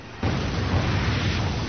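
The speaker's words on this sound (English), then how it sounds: "Coordinated explosions on 4 commuter trains killed 200 people and injured thousands more." Explosion from the 2004 Madrid commuter train bombing, a sudden loud blast that opens abruptly and holds as a dense, sustained roar with rumbling low end.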